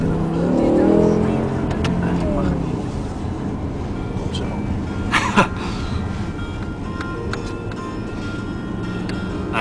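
A BMW M5 Touring accelerating, its engine note rising steadily under throttle as a broad, loud roar heard from the cabin, with a couple of brief clicks partway through.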